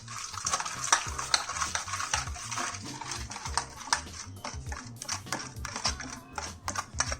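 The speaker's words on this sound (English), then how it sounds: "Let's mix all of this together till this marination is lump free." Paneer marinade of spices and mustard oil is stirred in a bowl, giving a continuous wet, clicking scrape of spoon against bowl with rhythmic strokes, close and fairly loud.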